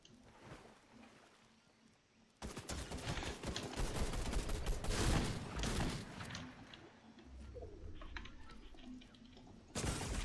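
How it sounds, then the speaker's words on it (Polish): Gunfire during a Fortnite match bursts in after a quieter stretch, with dense rapid shots and heavy thumps lasting several seconds, then drops off before another burst. "Tutaj w nas strzelają, w nas, nas"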